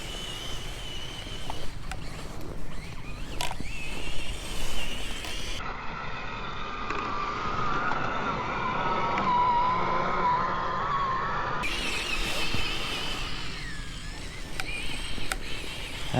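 A modified SG 1203 Ripsaw tracked tank drives through snow, its engine roaring steadily and swelling louder for several seconds in the middle, with churning track noise throughout.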